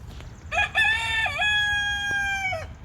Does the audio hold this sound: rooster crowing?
yes